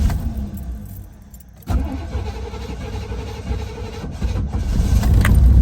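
Keys rattle faintly, then a third-generation Camaro V8 engine cranks and catches, settling into a loud, rough idle that keeps running to the end.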